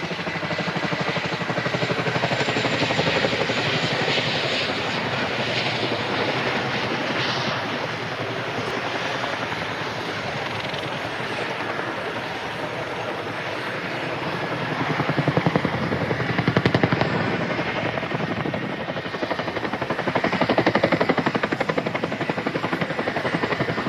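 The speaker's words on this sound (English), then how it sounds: "He will pull back on the stick to commence the deceleration before flicking the aircraft around the nose" A jet aircraft at an airshow flying display decelerating sharply during a maneuver, flicking around its nose: a loud, continuous broadband roar that rises and falls slightly as it passes, heard from a distance with no talk.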